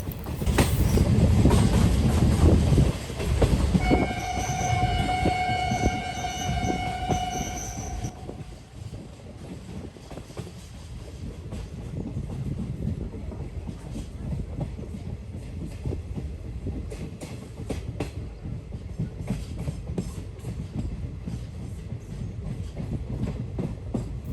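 The Doon Express, running from Haridwar toward Yog Nagari Rishikesh, rumbles along the rails nearby with a loud squeal of wheels early on, then steady clickety-clack running on with no voices.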